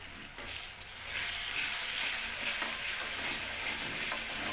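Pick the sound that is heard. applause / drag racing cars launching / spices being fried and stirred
spices being fried and stirred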